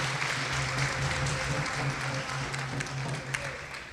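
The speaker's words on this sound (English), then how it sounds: "can we get a round of applause for..." A round of applause from a congregation at a Sunday temple program welcoming a visiting swami, steady clapping with a low hum underneath.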